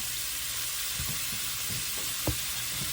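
Ground beef cooking in a pan for nachos, a soft constant sizzle with a few light scrapes and taps of stirring, quiet and close.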